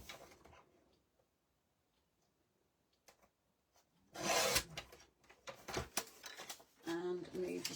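A paper trimmer slices a page while pages are made for a scrapbook, giving one short, dry, rasping slide that comes after near silence, with scattered handling rustles and faint speech-like sounds afterward.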